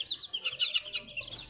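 Sick young chicks in a small group of about ten on a farm during the rainy season, peeping in quick repeated high chirps, faint and close with no other sound.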